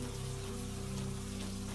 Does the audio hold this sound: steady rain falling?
yes